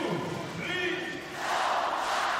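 A home crowd in Bari roars during a tiebreaker set of an Italy versus Netherlands men's volleyball match, a dense, swelling cheer that rises in loudness, with a commentator talking over it.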